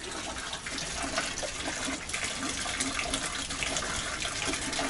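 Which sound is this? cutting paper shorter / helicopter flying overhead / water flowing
water flowing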